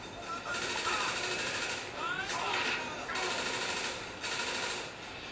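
Submachine gun fire in GTA 5, heard as rapid bursts of automatic shots in a game soundscape, repeating several times with short gaps between them.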